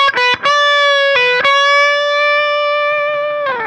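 A distorted electric guitar plays a lead line: a couple of short, choppy plucked notes, then a long sustained bend-like note that rings out and slides at the end, played alone.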